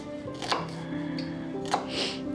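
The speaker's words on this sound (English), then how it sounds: "I'm just chopping these up" Shallots for a homemade ragu are chopped with a knife on a board, giving a few distinct knocks over a steady low kitchen hum.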